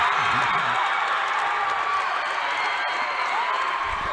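A crowd roars and cheers at a boys' basketball state championship trophy presentation as the lone senior receives the trophy, with loud, continuous cheering, clapping and whoops filling the arena.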